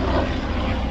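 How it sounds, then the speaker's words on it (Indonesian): Police helicopter passing overhead, a loud, steady rotor and engine drone filling the short moment without talk. "lagi ada helikopter lewat"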